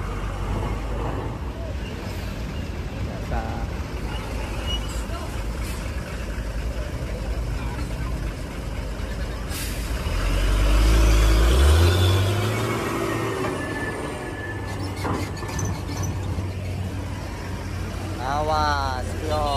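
Cars rumble and idle on the pier at Merak harbour in Banten, packed with homebound travellers, engine drone swelling as one passes close by, with voices talking throughout.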